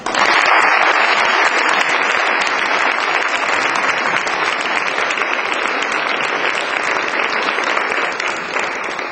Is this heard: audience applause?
yes